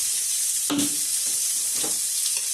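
Onions sautéing in a cooking pot for a chicken curry, a continuous bright sizzle with a few stirring scrapes breaking through, close and loud with no talking.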